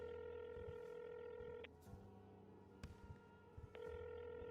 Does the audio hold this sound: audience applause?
no